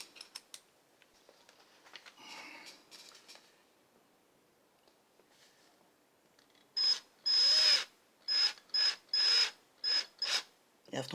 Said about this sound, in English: You have to hold back the weight of the drill.